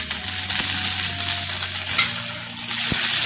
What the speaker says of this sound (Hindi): तड़के के बाद करौंदा और मिर्च ऐड कर लिया है, इन्हें अच्छे से मिक्स कर लेते हैं।